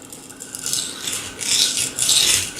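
A knife is drawn across a sandstone bench stone in short rasping strokes, faint and dry, a few repeated scrapes that grow slightly louder toward the end.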